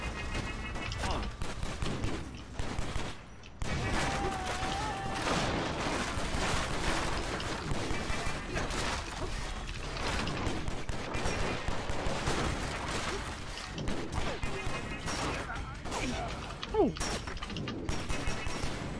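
Gunfire in the PC video game Stranglehold on Hong Kong streets, dense continuous bursts of shots and explosions filling the whole stretch, loud and close.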